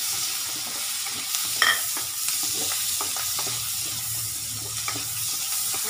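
Onions sauté in a hot pan for spicy pork and chicken adobo, with a continuous sizzle and repeated stirring scrapes close by.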